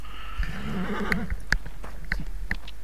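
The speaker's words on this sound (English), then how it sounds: "So once we're outside, jump on your horse" A horse in Assassin's Creed Origins whinnies near the start, followed by a few sharp hoof clops and scattered clicks, moderately loud over a steady low background hum.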